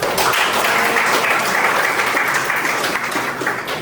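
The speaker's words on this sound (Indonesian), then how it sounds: "Kasih aplaus dulu dong." A classroom audience applauds a student's answer during a lesson, a steady, dense burst of clapping from many hands that fills the room for a few seconds and tapers slightly at the end, with no talk over it.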